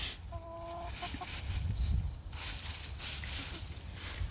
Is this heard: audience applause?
no